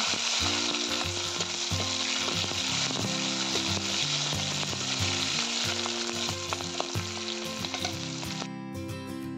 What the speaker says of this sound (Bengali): এর মধ্যে দিয়ে দেবো কেটে রাখা টমেটোগুলো এবং কাঁচা লঙ্কা টমেটো দিয়ে আরেকটু ভেজে নেব